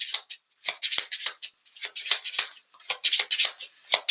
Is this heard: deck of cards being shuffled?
yes